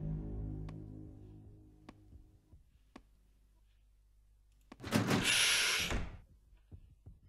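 A locked door being tried in the horror game 7days, a short burst of rattling and clunking that stands out clearly after a quiet stretch of faint clicks and low tones.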